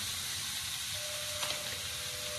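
Chopped tomato goes into a hot pan with garlic for a potato sabji, giving a steady close hiss of sizzling that holds evenly throughout, with no talk.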